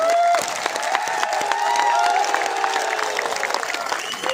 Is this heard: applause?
yes